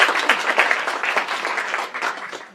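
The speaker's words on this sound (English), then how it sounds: "Give her a big applause." An audience at a startup incubator kick-off event applauds a woman introduced on stage, a dense burst of many hands clapping that holds steady for a couple of seconds before tapering off at the end.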